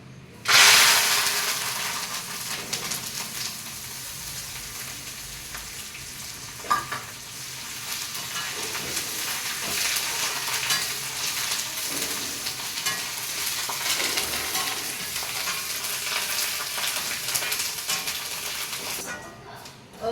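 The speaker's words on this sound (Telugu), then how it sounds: "ఓకే అండి కరివేపాకు కూడా ఫ్రై అయిపోయింది తీసేసుకుంటున్నాను" Curry leaves crackle and sizzle steadily in hot oil while a mixture snack is made, a loud, dense frying hiss that runs nearly unbroken for the whole stretch before cutting off.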